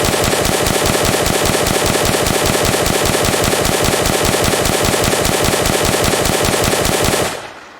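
Full-auto gunfire from a weapon in an Unreal Engine Nazi zombies shooter game, a long unbroken stream of rapid, loud, evenly spaced shots that runs for about seven seconds and then cuts off abruptly.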